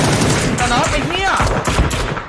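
Rapid bursts of gunfire from the battle royale video game PUBG, loud and close, overlapping with excited shouting from players.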